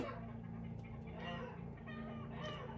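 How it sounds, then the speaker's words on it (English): Chickens cluck and squawk excitedly nearby, several overlapping agitated calls rising and falling over a steady low background hum, fairly faint overall with no talk. "The chickens are going crazy."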